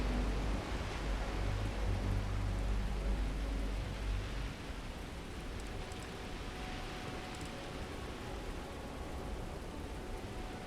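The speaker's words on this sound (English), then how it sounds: "Unless you like getting soaked by the rain." Steady rain falls in the video game Starfield on the planet Neon, a broad even hiss of moderate loudness that runs the whole time, slightly fuller at the start and alone without voices.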